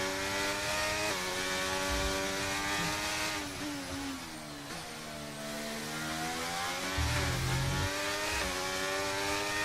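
An F1 race car engine screams at full throttle in the F1 23 racing game at the Brazilian GP, a loud, high-pitched whine that rises and dips through gear changes over several seconds.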